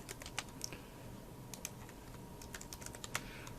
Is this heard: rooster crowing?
no